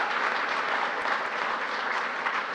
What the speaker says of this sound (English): You can clap for that, please.